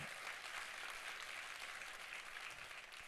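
A church congregation applauds continuously during a sermon, a dense, steady patter of clapping heard from a distance at a soft level.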